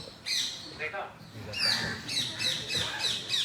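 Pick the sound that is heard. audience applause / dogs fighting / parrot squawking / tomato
parrot squawking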